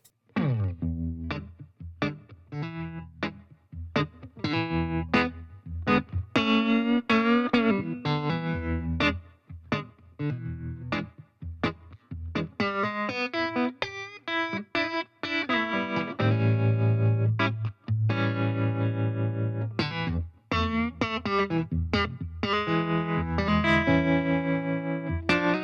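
Electric guitar runs through a Decapitator saturation plugin set to its Ampex tube preamp mode, playing plucked notes and chords with gritty, warm distortion and chorus-like shimmer, loud phrases separated by short gaps, no talking.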